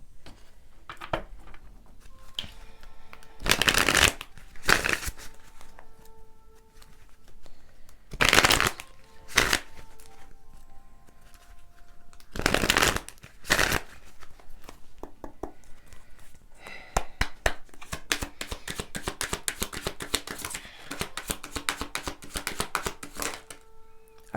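A deck of tarot cards being shuffled in repeated bursts of riffling and flapping, several loud, dense riffles early on, then a longer stretch of quicker, lighter card shuffling and patter toward the end, with no talking.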